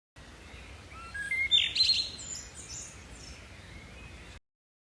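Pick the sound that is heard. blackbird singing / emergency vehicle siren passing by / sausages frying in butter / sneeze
blackbird singing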